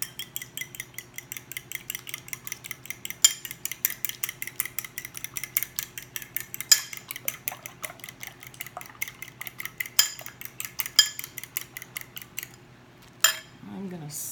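Two eggs being lightly beaten with a utensil in a bowl: rapid, steady metallic clicking and tapping strokes repeated for many seconds, close and fairly crisp, ending with a few scattered knocks.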